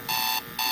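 A SoundGear SGCCR digital AM/FM clock radio alarm beeps, two sustained electronic tones with a short gap between them, loud and close with no talking.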